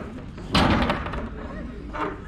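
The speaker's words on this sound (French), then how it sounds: "Je vais vérifier le fonctionnement de la deuxième porte." A side door on the flatbed of a truck is shut with one heavy, solid slam near the mic, followed by a rattling resonance and a smaller knock, with faint voices in the background.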